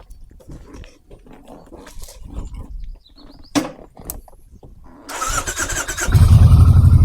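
A Kawasaki Vulcan 1600 Mean Streak motorcycle is slow to start: a few quiet clicks and short cranking bursts, then the engine catches near the end and settles into a loud, close, throbbing idle.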